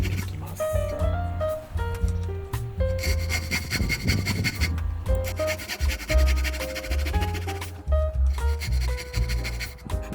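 A Japanese hand saw rasps steadily through wood in repeated back-and-forth strokes, cutting a dovetail joint shoulder, close by, with melodic background music playing throughout.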